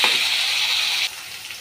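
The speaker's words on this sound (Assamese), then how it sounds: "অলপ পালক কৰি অলপ পৰ ভাজি লওঁ" Drumsticks (sajna) fry in a pan with turmeric and salt, giving a steady loud sizzle that drops to a quieter hiss about two-thirds of the way through, with no talking.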